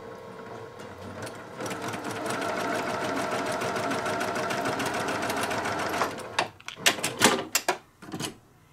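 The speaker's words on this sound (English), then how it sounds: "I'm going to essentially sew right where this drawn line is right here" A sewing machine stitches a diagonal seam along a drawn line on quilt pieces, running in a fast, steady mechanical chatter for several seconds before slowing into a few uneven bursts and stopping.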